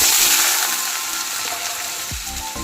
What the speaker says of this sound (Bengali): বড়া ভাজা তেলের মধ্যে আমি আলুগুলোকে একটু লাল লাল করে ভেজে নেব।